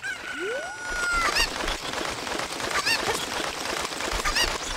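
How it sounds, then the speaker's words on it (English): A chicken in The Legend of Zelda: Ocarina of Time clucks and squawks in repeated bursts about every second and a half over a busy game background, preceded by a rising whistle-like tone, loud and close. "let's grab a chicken and get going."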